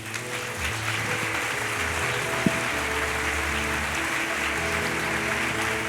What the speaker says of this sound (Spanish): ¿Por qué no les damos un fuerte aplauso?